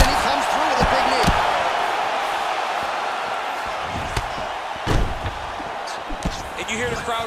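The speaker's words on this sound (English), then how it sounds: "you hear the crowd react every time they come together" A roaring arena crowd in EA Sports UFC 4 swells and shouts as the fighters clash, with sharp impact thumps and sudden spikes of cheering over a steady wash of crowd noise.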